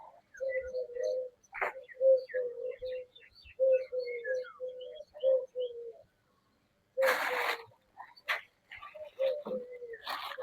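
Pigeons coo in a steady repeated rhythm at a bird feeding spot, with scattered sparrow chirps and a couple of louder flutters or calls, fairly close and clear.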